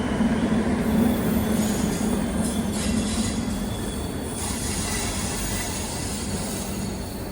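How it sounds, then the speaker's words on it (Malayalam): An intercity express train pulls into a Kerala railway platform, a loud, continuous rumble of rolling wagons with squealing wheels and a faint clickety-clack, heard close and steady throughout. "പത്തേ 50 പോകാനുള്ള ഇന്റർസിറ്റി ഇതാ കടന്നു വരികയാണ്"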